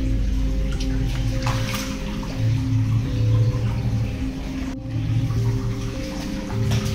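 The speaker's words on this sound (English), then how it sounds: "if you all can see, water is dripping from here. This is underground water, by the way." Underground spring water drips and flows out at a spot in Panjim, Goa, a steady wet splashing rush that swells and eases, close and fairly loud.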